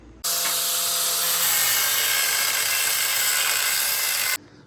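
A power tool cuts off metal parts during a Mercedes OM606 diesel engine swap into a Land Rover Defender, giving one loud, continuous, close hissing grind of about four seconds that starts and stops abruptly.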